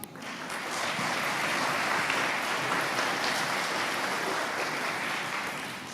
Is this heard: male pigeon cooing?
no